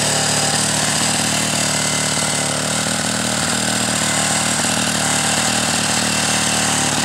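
A Solex 6000 moped engine with freshly reassembled motor idles steadily and slightly high, a continuous close buzzing drone with even vibration and no talk over it.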